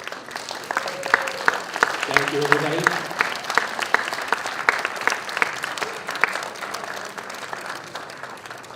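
Audience applause for performers gathered on stage at a university Chinese New Year celebration, a steady dense round of clapping throughout, with a voice briefly speaking over it.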